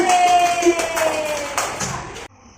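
Children clapping in a classroom, a short burst of bright hand claps over a sustained tone and voices, stopping abruptly near the end.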